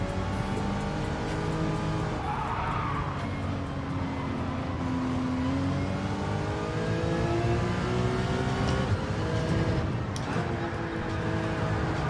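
A car drifts in Gran Turismo 7 with a loud, steady engine drone and shifting pitch as it revs and slides, plus intermittent tire squeal throughout.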